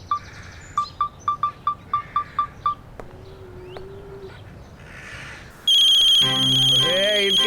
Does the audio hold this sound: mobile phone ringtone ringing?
yes